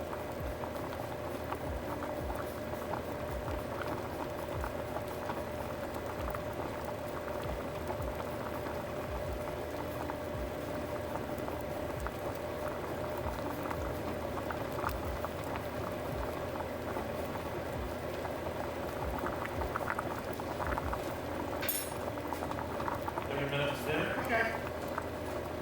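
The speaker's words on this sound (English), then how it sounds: "Now it's finally boiling. It takes forever on this stove, I swear." A pot of water boils on a stove, a steady, continuous bubbling hiss that lasts throughout, with a few clatters near the end and a voice faintly present beneath it.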